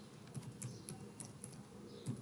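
Soft, quiet keystrokes on a computer keyboard while entering text into an Excel sheet, scattered irregular taps over a steady low room hiss with no talking.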